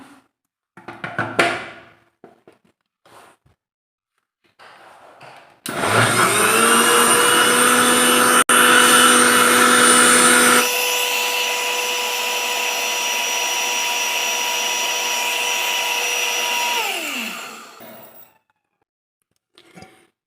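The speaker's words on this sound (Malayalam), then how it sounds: "ഇനി ഇത് മൂടിയിട്ട് ഒന്ന് അരച്ചെടുക്കാം." Kitchen mixer grinder running with the lid on while grinding ingredients, a loud steady motor whine that shifts pitch midway, then winds down and stops, preceded by a few handling knocks.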